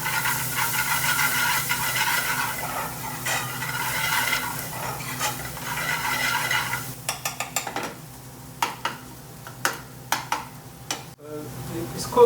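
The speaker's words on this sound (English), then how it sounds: "the garlic ginger is cooking in hot oil" Garlic and ginger cooking in hot oil while a chicken tikka bhuna is being made: a steady hiss for about seven seconds, then a string of sharp stirring scrapes and clinks against the pan.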